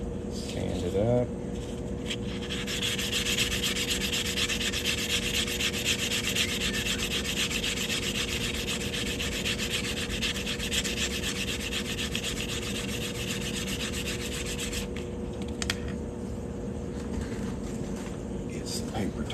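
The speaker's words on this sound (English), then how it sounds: "Sand it up." Sandpaper rubs steadily against a ring made from a coin in a continuous, close scratching drone, with a brief knock near the start and a faint voice under it.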